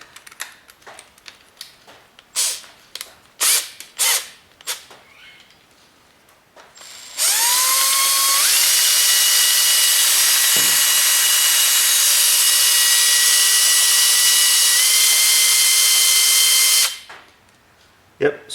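A pull gear speed reducer spinning up and running at speed while spraying oil: a sustained, loud mechanical whine with rising tones that runs for about ten seconds and then stops, preceded by clunks and brief speech.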